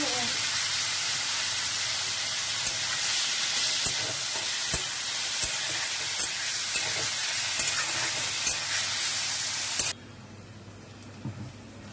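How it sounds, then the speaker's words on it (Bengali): Chicken neck pieces and vegetables fry in a pan, a loud continuous sizzle with scraping stir clicks throughout that cuts off abruptly near the end, leaving a quieter hiss. "চিকেন নেকটা ওদিকে ভাজা ভাজা হোক, এদিকে আমার সবজিটাও ভাজা ভাজা হয়ে গেছে"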